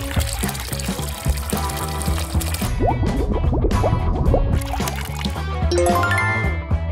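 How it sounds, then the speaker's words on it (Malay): Water poured to fill a container during a children's experiment: a loud, continuous splashing pour that rises in pitch as the vessel fills, with only faint background voices. "Jom kita isikan dengan air."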